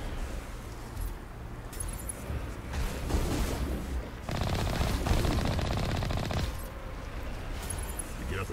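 Heavy tank cannon fire and weapon bursts in Mass Effect Legendary Edition, with loud sustained stretches of rapid firing and booming blasts amid a dense battle din.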